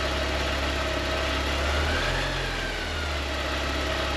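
Porsche 944 engine idles steadily and close by, rising briefly in a light rev before settling back to a low idle hum.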